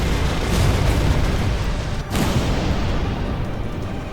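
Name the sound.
assault guns firing in video game Sunrider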